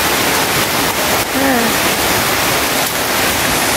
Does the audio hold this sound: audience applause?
no